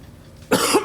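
A single short, harsh cough bursts out after a quiet moment, close and fairly loud, with nothing else audible.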